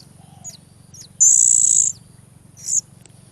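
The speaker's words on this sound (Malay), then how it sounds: "anak suap murai" A hand-fed magpie robin chick gives a few short, high chirps and one longer shrill begging call, close by over a steady low hum.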